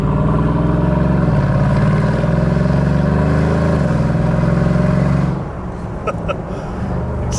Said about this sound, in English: The way it builds speed is like crazy for such a big car.